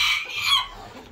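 A chicken among a flock of rare breed birds gives a short, close cackling cluck that trails off into quieter background noise.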